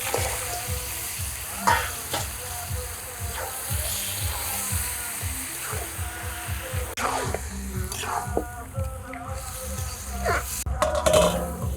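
Mutton head meat fries in a spiced masala with a constant close sizzle and frequent rhythmic clacks and scrapes of a metal spoon against the pot, a few louder knocks near the end.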